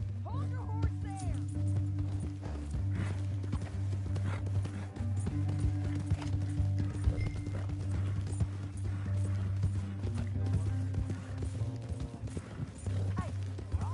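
Steady hoofbeats of a galloping horse in the video game Red Dead Redemption 2 under a low rumbling background, with occasional voice-like sounds mixed in.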